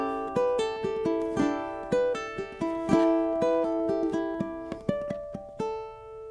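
Fingerpicked ukulele étude played with only two fingers, plucked notes ringing in a steady flowing rhythm across four bars, close and clear with no voices.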